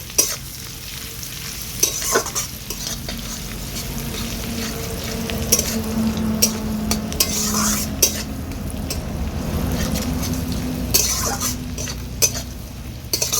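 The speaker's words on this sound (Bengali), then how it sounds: "আদা রসুনটাকে একটু নেড়ে চেড়ে নিচ্ছি" Chopped garlic and ginger stirred and fried in a pan for a chicken stew, a continuous sizzle broken by repeated scraping and clattering strokes of a spatula against the pan.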